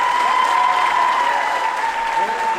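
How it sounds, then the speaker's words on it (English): Steady applause from the audience at a middle school spring band concert, a continuous wash of clapping with a faint sustained tone and a few voices mixed in beneath it. "Let's give him another round of applause, please."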